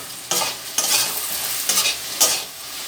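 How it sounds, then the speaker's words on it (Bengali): Taro being stirred with chili powder in a hot frying pan, several scraping spatula strokes over a soft, continuous sizzle, close up with no talking. "আবার ভালো করে মিশিয়ে নিচ্ছি।"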